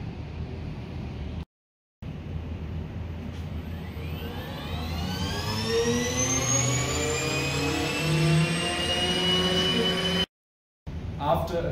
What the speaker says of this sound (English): After a few cycles of the ultra-Torax stirring, we are basically done.